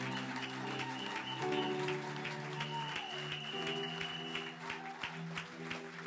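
A church congregation claps and acclaims the Lord at a seminar, steady dense applause under sustained organ or keyboard chords, moderately loud and continuous throughout.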